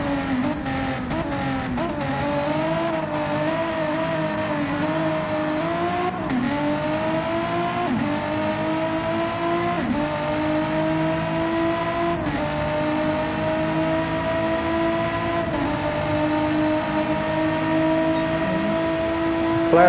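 A McLaren Gr3 race car in Gran Turismo races along Grand Valley Highway Reverse, its engine rising steadily through repeated gear changes, with more engines droning close behind the whole time and no talk.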